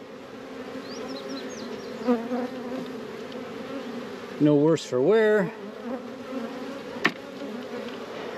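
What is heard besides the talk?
honey bees buzzing while moving nuc frames into deep box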